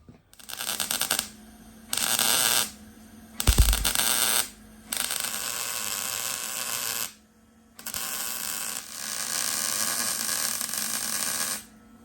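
Welding a mid-60s low back seat onto a 1972 VW Super Beetle produces several bursts of harsh electric buzzing and crackle, each lasting one to three seconds with quiet gaps between, plus a brief low thump.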